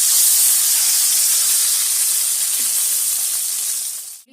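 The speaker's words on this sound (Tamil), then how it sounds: "இப்போ நம்ம புளி தண்ணி ஊற்றிடலாம்." A loud, steady hiss and sizzle as tamarind water is poured into hot oil for thudhuvalai kuzhambu, holding strong for several seconds before cutting off abruptly.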